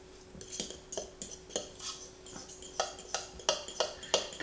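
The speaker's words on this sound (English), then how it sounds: "Now go ahead and mix this up." Dry keto baking ingredients, salt and sugar among them, being whisked or stirred in a bowl, with a steady run of light clinking scrapes of utensil against the bowl at close range and no talking.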